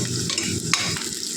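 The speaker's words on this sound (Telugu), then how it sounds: "ఉల్లిపాయ చాలా వేగిందండి, ఎర్రగా వచ్చేసింది." Onions fry and sizzle in a pan while being stirred, a close, steady crackling hiss with brief scraping stirs, as they turn red-brown for a chicken and spinach curry.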